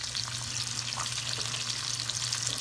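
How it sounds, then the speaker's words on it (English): Jalapeno sausage browning in a pot for gumbo gives off a steady, dense sizzle and crackle that keeps going throughout, with a low hum underneath and no talking. "As the sausage starts to brown, you want to go ahead and just start flipping them over."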